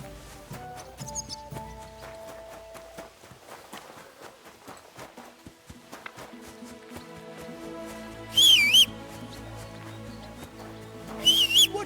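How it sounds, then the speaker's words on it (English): In the medieval video game Kingdom Come: Deliverance II, a character whistles two short warbling phrases, loud and close, over quiet game music with soft footsteps and horse clip-clops in the background. "Are you whistling just for fun?"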